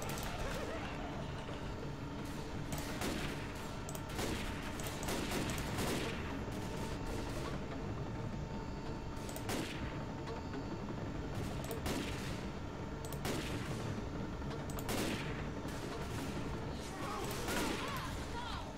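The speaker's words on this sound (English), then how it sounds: "The explosive ammo, baby." Left 4 Dead 2 gunfire with explosive ammo, repeated loud blasting shots at a steady irregular rhythm over a constant rumbling game din, close and sustained throughout, with occasional voices.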